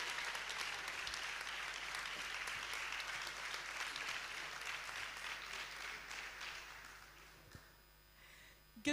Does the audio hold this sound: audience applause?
yes